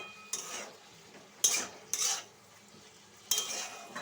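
Onions and cabbage being stirred in a pan, several distinct scraping bursts of a utensil against the pan over a faint background sizzle, no talk.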